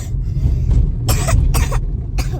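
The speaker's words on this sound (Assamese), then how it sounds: "আয়ো তাই কাহিয়ে দিছে নে কিয়ে নে সঁচাকৈ কাহ লৈছে" A little girl coughs inside a car, a few sharp bursts close by over a low, steady cabin rumble.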